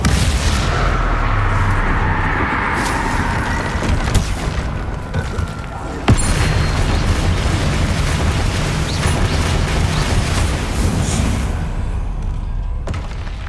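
Bombarda and Confringo spell blasts in the Hogwarts Legacy video game, repeated heavy booms and crackling explosions over a dense, loud battle bed with voices shouting throughout.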